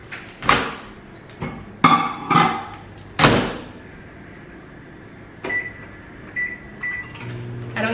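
A home microwave oven is started: door thunks and button beeps come first, then a series of short electronic beeps follows and a low steady hum begins as it runs, all close by.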